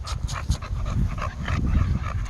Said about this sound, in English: Fitting in with the pack. The Legend's going crazy.